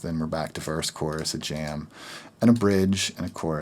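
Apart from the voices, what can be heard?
No distinct noise like a dog, phone or traffic.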